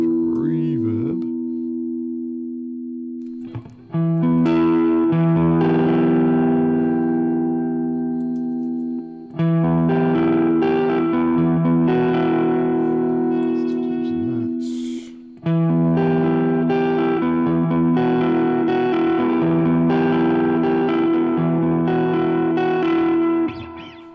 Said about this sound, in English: Reverb.